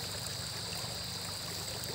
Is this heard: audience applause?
no